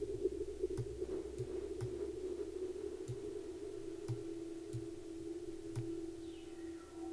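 A dub delay synth runs through a reverb, giving a faint sustained tone with soft, regularly spaced clicks that echo and trail off.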